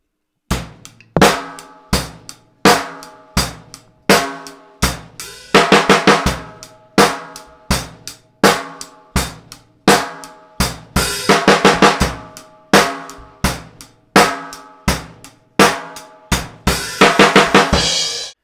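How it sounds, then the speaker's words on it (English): A steady rock drum beat with crisp snare hits, broken up by several rapid 16th-note single-stroke snare roll fills, loud and close with no voices. "16th notes played in a single stroke roll on the snare drum"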